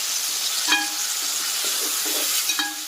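Curry leaves fry in a pan with potato for a brinjal curry (vankaya pulusu), giving a steady, close sizzling hiss broken by a few soft spatula stirs and scrapes, with no talking.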